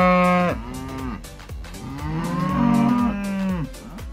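A shorthorn cow, a dual-purpose dairy and beef breed developed in northeast England, lows loudly and close up in several long, drawn-out moos one after another, with no voices present.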